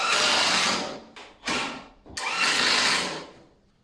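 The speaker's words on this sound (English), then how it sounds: "we're just using drywall screws because they're so cheap and we're on a tight budget. They're going easy enough" Cheap drywall screws being driven into wood for a budget workbench, a few short bursts of a whirring driver, the last one longest, close and loud with no talk.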